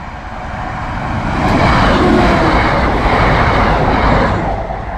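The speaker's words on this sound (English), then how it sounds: "Here comes the train." A train rolls past a hand-operated level crossing at Hessay on its way into York, a loud, broad rumble that swells over the first two seconds and holds steady close by, with no voices.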